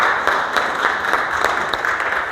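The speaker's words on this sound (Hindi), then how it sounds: "एक बार जोरदार तालियां उनके लिए" Crowd applause at a railway station safety day program, with steady clapping throughout, a dense, continuous patter from many hands at moderate volume.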